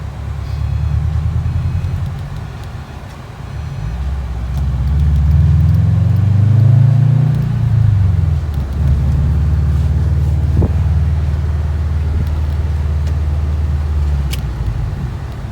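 A Subaru WRX with an Invidia N1 dual exhaust pulling under load from inside the car, a loud steady engine drone that swells and climbs in pitch midway, then settles, with some wind noise.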